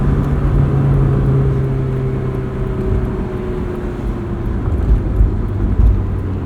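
A Honda S2000 sports car drives along, its steady engine drone and road rumble loud and close throughout, with a sustained low engine tone that shifts slightly in pitch as it cruises.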